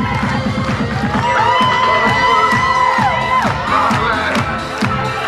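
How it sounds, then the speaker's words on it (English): A bat mitzvah party crowd cheers and whoops loudly and continuously, with shouting children and dance music running underneath the whole time; the clapping cannot be picked out clearly from the din. "get those hands clapping"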